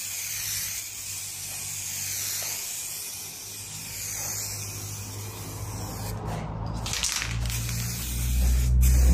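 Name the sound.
spray paint can spraying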